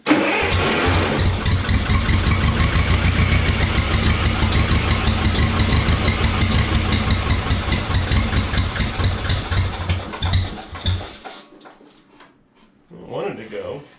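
Old 1950s Schramm air compressor engine cranks, catches and runs with a loud, rapid rhythmic chugging close by, then sputters and dies away before briefly firing again.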